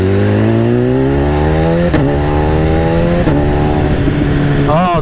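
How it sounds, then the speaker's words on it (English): A BMW S1000RR sport bike with an Akrapovic exhaust screams loudly up through the gears, its pitch climbing steadily and dropping sharply at each upshift, where brief crackling pops burst out; the roar stays close and dominant throughout. "Oh, those pops when you upshift"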